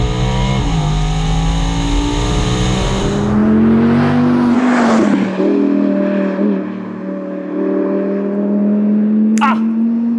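Audi R8 V10 sports car accelerating hard, its engine roaring up through rising pitch, loud and close and steady throughout, with a brief shift dip midway and a sharp click near the end.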